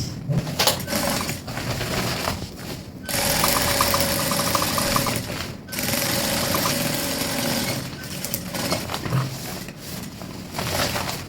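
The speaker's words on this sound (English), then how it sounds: "Then you top stitch." A sewing machine topstitches Ankara palazzo pants in several bursts of steady whirring, separated by brief pauses as the fabric is repositioned, close and moderately loud.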